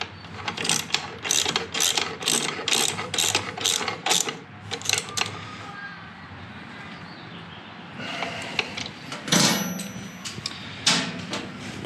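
A hand ratchet turns 15 mm and 13 mm nuts on the rear of a 2020 KTM motorcycle, rapid clicking bursts in a steady back-and-forth rhythm, close and alone, then a pause and a few final sharper clicks.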